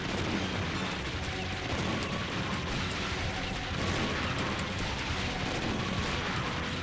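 Bombs exploding in the Metal Slug 2 arcade game, a dense, continuous barrage of blasts and gunfire that fills the whole stretch with steady roaring noise.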